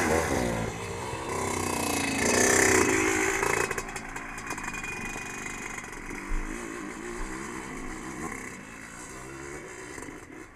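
Motorcycle climbing a steep hill on Burma Rd, its engine revving and straining loudly at first, then easing to a lower, uneven note as it gets farther away.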